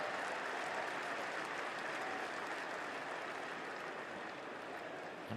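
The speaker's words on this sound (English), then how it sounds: "where he gets a big cheer anyway" Big crowd cheer and applause from spectators at an England v West Indies cricket Test match, a steady loud wash of clapping and roaring that holds for several seconds before easing slightly.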